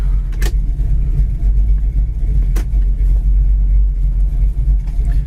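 A 1971 Chevy Chevelle engine and exhaust run at a steady, deep idle, with a loud, continuous low rumble and a couple of brief sharp knocks near the start.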